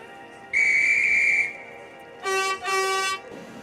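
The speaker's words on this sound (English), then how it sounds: "And from the guard's whistle, Daisy departed and cruised to Harwick." A railway guard's high, steady whistle sounds once for about a second as a train departs, followed by two short bursts of a louder, harsher whistle close by.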